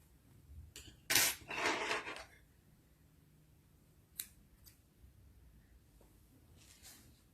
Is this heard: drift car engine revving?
no